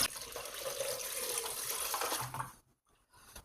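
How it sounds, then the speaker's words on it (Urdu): Water pours steadily into tamarind sharbat with ice, a continuous splashing stream close by that cuts off near the end. "اب ہم اس میں پانی ایڈ کر دیتے ہیں۔"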